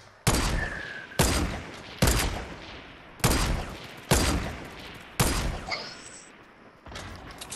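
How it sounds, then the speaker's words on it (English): Heavy gunfire in a battle royale video game comes as loud, close bursts, about seven blasts spaced roughly a second apart, each with a rumbling tail, and no voices. "There is a shooting now."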